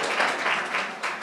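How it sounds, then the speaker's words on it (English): At a poetry evening the audience gives Spencer a round of applause, a brief, fairly soft wash of many hands clapping in a small room, with no talk over it. "give Spencer a round of applause"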